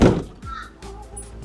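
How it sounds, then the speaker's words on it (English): A door on a Ford Transit campervan is pulled shut with a dull thunk near the start, and a few faint knocks and rattles from inside the van follow. "Close this door."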